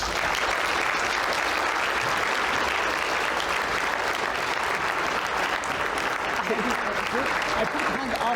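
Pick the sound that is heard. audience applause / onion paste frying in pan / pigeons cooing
audience applause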